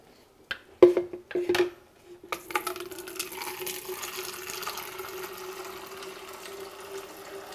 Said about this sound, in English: So I'm gonna drain some of that water out.